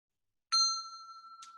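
An inexpensive handbell used in place of Montessori bells strikes a single clear note that rings on and slowly decays, with a faint second tap near the end; no voices.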